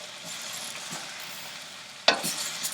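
Vegetables and bacon sizzle in a pan over a very high flame, a steady close hiss with faint stirring scrapes, then a sharp clink of a utensil against the pan near the end.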